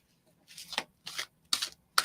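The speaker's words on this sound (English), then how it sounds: "I'm going to shuffle 7 times." A deck of tarot cards is shuffled in four distinct riffle bursts, each a brief papery rattle. The bursts come in an uneven rhythm with short pauses between them, close and alone.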